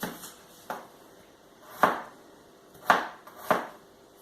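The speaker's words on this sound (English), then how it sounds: "So hands like a claw, just rock the knife over it" A knife rocks roughly through vegetables for red pepper and tomato soup, giving five sharp, fairly close chops on a board at uneven intervals with quiet gaps between them.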